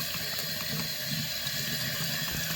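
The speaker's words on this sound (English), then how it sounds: "simply pour the content into a strainer and place under running water" Tomato seeds are rinsed in a strainer under running tap water, which makes a steady, close, continuous rushing splash that lasts the whole time without a break.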